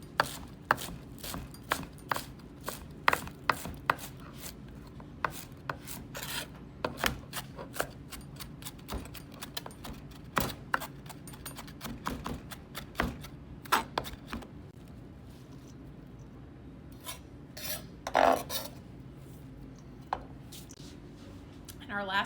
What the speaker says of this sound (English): we're gonna just give our cilantro a rough chop here.